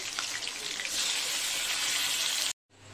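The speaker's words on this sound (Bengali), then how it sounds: "মাংসটাকে এক এক করে ভেজে তুলে রাখবো।" Chicken pieces for biryani deep-frying one by one in hot oil, a steady broadband sizzle that swells and runs loud and close for over two seconds before cutting off abruptly, then faintly resuming.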